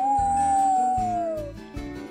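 Wolf howl sound effect for a Three Little Pigs storytime, a single long sustained howl that slowly falls in pitch, loud and close with no talking.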